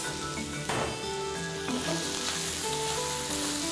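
Rice dumped into melted butter and oil sizzles loudly and steadily in a hot pan, with a sudden surge of crackle as it hits and occasional stirring clinks, close up and alone.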